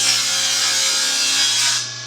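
Power saw cutting through wood while making small wooden pulls, a loud close whining buzz with a steady tone that holds for under two seconds and then tapers off.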